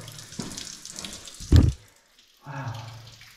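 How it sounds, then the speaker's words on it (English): Water splashes and trickles in uneven bursts, with a loud close spatter in the middle and a quieter steady run afterward, dripping inside a damp, echoing cave. "Here's the source of the dripping water noise."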